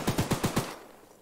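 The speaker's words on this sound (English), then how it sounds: "I'm gonna shoot you." A rapid burst of five gunshots from the video game Choo Choo Charles, evenly spaced and loud, then a short fading tail.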